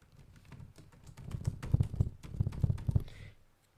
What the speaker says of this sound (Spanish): ponemos nuestro nombre de usuario y nuestra contraseña